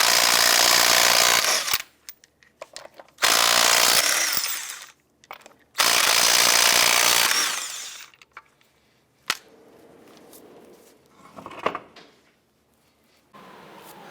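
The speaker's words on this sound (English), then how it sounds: "Using a 19mm socket, we'll go ahead and remove the lug nuts." Impact wrench zipping lug nuts off a 2005 Jeep Liberty wheel with a 19mm socket: three loud, sustained whirring bursts of about two seconds each, separated by short gaps, followed by quieter clanks and rattles as the nuts come free.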